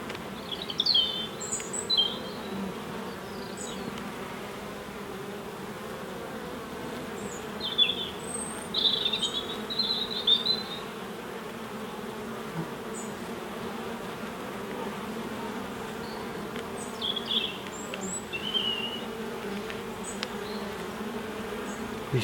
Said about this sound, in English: Really pretty bees these are.